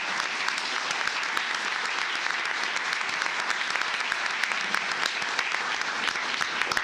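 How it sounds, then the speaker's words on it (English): A sustained round of applause from the audience at a county commissioners court meeting, dense and even clapping from many hands that holds steady for several seconds. "Let's give all of them a round of applause."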